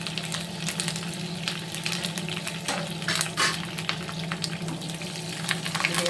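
Onions and curry leaves frying in a pan, a steady crackling sizzle with bursts of spattering and stirring, close and continuous without talk.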